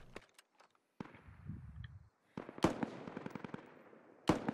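Distant gunfire in the military shooter game Squad: scattered sharp cracks and short bursts ring out far away, some in quick clusters, with quiet gaps between and no talking.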